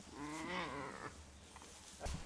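A newborn goat kid bleats during a farm kidding, a wavering cry close by lasting about a second, followed by quieter rustling and a short low thump near the end.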